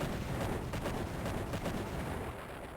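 Tanks fire in the Imperium Galactica video game, a dense rumbling volley of gunfire and blasts rolling on steadily for a few seconds at moderate loudness with no talk.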